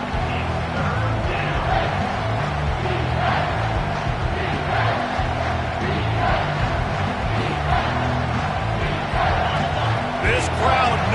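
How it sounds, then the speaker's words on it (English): A football stadium crowd roars in a dense, continuous wash of noise while a commentator talks over it. "This crowd knows when to bring it."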